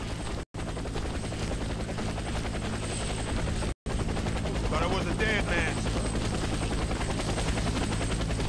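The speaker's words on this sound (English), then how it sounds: "Helicopter is inbound." Helicopter arriving in the shooter game Warface, a loud, continuous rotor thrum filling the whole clip, with brief dropouts and a radio voice speaking partway through.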